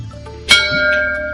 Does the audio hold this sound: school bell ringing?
yes